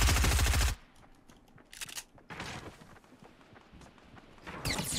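Video game gunfire: a loud rapid burst of automatic shots at the start, then scattered shorter bursts and single shots farther off, fading between volleys.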